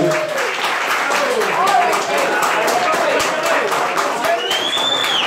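Audience clapping for a singer, close, loud and dense applause with whoops and cheering voices mixed in, steady from start to finish.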